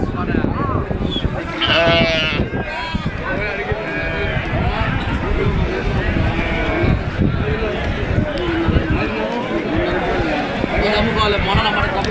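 Sheep and goats bleat repeatedly among a dense crowd of voices and bustling weekly livestock market noise, with people talking throughout.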